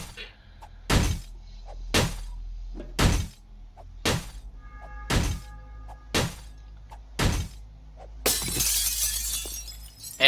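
Glass panes break in a video game using the Ztensity's Unnecessarily Beautiful But Immersive v1.3.0 mod: sharp, loud shattering impacts repeat roughly once a second, then end in a longer, noisier crash.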